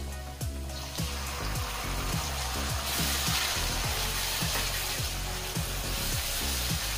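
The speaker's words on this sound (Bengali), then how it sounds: "এবার তেলে একটু কষিয়ে নিচ্ছি।" Tomato paste sautéing in oil over fried ginger and garlic for a long bean curry, a dense continuous sizzle with a rhythmic run of repeated spoon knocks and scrapes against the pan.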